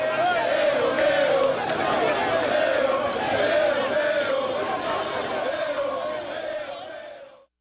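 Thousands of people massed in the streets of Port-au-Prince send up a loud, sustained roar of shouting and cheering that fades out at the end.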